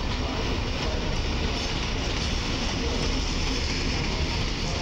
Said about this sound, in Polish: Jedzie pociąg osobowy do Dęblina.